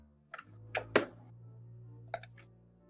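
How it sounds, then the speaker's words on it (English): A few sparse computer keyboard keystrokes sound close and crisp in small clusters with short pauses between them, over a low steady hum. "Stop typing in fucking SKT now."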